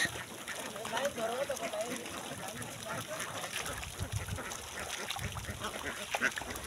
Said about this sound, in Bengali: দেখুন এখন সন্ধ্যে হয়ে গেছে তো, হাঁস এখন বাসায় ঢোকে।